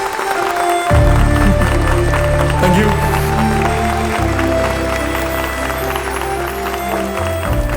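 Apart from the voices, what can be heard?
audience applause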